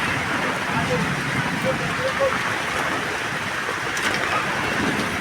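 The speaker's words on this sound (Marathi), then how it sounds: "आज जेवढे येथे मुसळधार पाऊस पडत आहे" Heavy monsoon rain pours down steadily at the village fair in Jewali, a continuous dense hiss of downpour without pause, with faint voices somewhere in the background.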